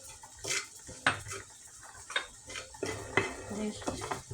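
A utensil stirs and scrapes through a chermoula marinade of spices and garlic in a dish, giving a few sharp clinks and a scraping mix with pauses between them.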